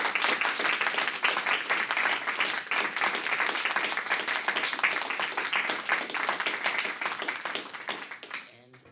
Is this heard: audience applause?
yes